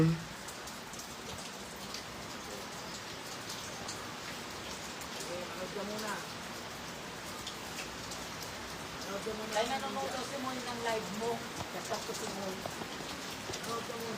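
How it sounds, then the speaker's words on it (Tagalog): Heavy rain pours steadily in a dense, hissing wash, with faint voices murmuring beneath it partway through. "Ang lakas ng ulan."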